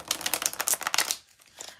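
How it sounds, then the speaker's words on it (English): Tarot cards are shuffled by hand, a close run of rapid papery riffling clicks for about a second, followed by softer scattered card sounds, with no talk over it. "We're gonna shuffle some more cards here."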